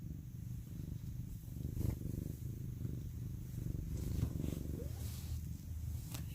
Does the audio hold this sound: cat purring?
yes